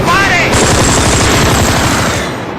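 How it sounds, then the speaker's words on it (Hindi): A Rafale jet's 30 mm cannon fires a sustained, loud rapid burst of rattling gunfire that roars continuously for over two seconds before tapering off. "राफेल में GI-80 30/719B गन है।"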